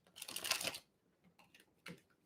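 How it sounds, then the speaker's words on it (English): Tarot cards being shuffled by hand in a quiet room: a dense papery riffle lasting close to a second, then a few soft scattered card taps and one more brief flutter, with no voices. "One more shuffle for you guys."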